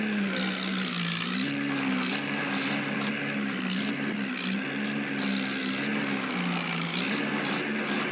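A Mahindra Arjun tractor engine runs loud and close with a steady droning tone that rises and falls slightly in pitch, under a constant mechanical roar with rhythmic flutters.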